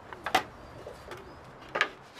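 Pigeons cooing in a TV drama scene, soft low coos with a couple of sharper flutters or chirps, fairly faint against a quiet background.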